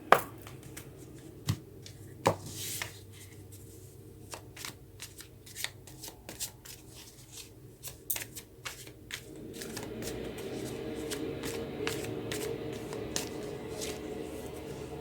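Tarot cards shuffled by hand in a quiet room, a run of soft riffling flicks and taps through the first half, giving way to a steadier continuous shuffling rustle toward the end, close and fairly quiet.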